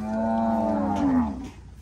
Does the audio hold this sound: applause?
no